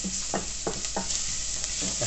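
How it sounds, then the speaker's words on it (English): Chilli powder being stirred into sizzling vegetables in a pan for a winter chilli, with a steady frying sizzle under repeated scraping strokes of a spoon against the pan. "Mix it all in, make sure you get all the vegetables nice and coated in it."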